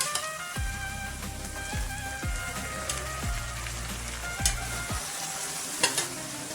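Beef kidney and liver fry with ginger garlic paste in a pan, making a dense, steady sizzle close up, punctuated by repeated spoon-stirring scrapes and taps at irregular intervals.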